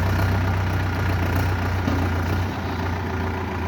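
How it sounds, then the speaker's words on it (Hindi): A tractor fitted with a cultivator, stuck and being worked free, runs with a steady, close, low engine rumble and idle throb for the whole stretch, easing slightly near the end, with no talking. "तो गाइस फाइनली ये ट्रैक्टर निकलता हुआ"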